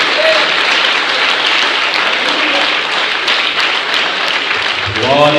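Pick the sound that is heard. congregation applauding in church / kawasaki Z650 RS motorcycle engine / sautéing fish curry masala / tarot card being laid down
congregation applauding in church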